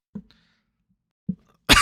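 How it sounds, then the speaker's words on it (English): A single person coughs into a microphone in two short, sharp bursts separated by about a second of quiet, followed by a brief louder rush of noise. "I tried to mute myself, but my mute button didn't work then for my cough."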